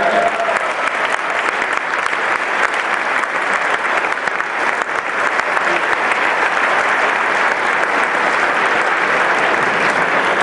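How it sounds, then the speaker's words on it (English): Loud, sustained applause from a large dinner audience fills the room continuously, a dense wash of clapping with crowd noise beneath. "A round of applause for Barrett."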